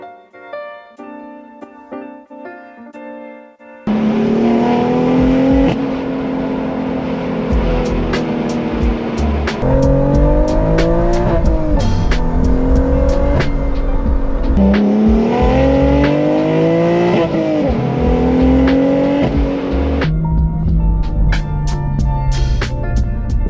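A Superformance GT40 is driven hard, a loud close engine roar climbing through the gears in repeated rising sweeps with brief drops at each shift, after a few quiet seconds with faint music before it starts.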